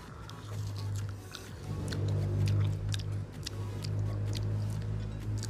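Close-miked biting and chewing of unripe green mango, soft and wet rather than crunchy, with irregular mouth clicks and squishes over a steady low hum, no talking.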